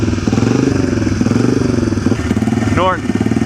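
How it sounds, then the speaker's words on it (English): A motorcycle engine approaches from behind a vintage Rolls Royce at the Pebble Beach Concours, a steady pulsing mid-pitched drone that runs loud throughout, with a brief sharper rise near the end. "that noise you hear is not this Rolls Royce. It's a motorcycle coming up behind it."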